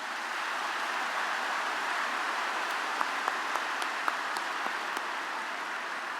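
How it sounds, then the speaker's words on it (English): A university commencement crowd at Bowling Green State University applauds in a broad, even wash of clapping from a large audience, fairly distant and sustained, with a few sharper claps standing out near the end. "Let's give these individuals a round of applause."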